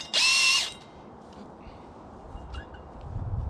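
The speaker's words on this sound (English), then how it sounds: "what I find when I'm using a big hole saw like this is I'm best to allow the saw to do the work" A Makita power drill fitted with a large hole saw whirs in a single loud half-second burst, then drops away to quiet background noise with faint clicks.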